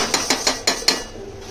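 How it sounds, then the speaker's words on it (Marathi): Quick metallic clanks and scrapes as the lid is lifted off a pan of onion-tomato chicken masala, five sharp close hits in a row, then quiet. "मी झाकण खोलून बघते."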